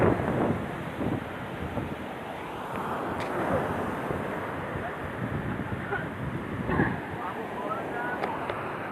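Large sea waves and gusting wind at a small-scale fishing spot on the coast of Iloilo, a continuous broad roar of surf with wind buffeting the microphone, moderately loud and rising in surges.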